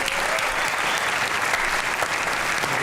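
Studio audience of a comedy talk show applauding a guest musician as he arrives, a dense, even roar of clapping from many hands that fills the whole stretch without any voices.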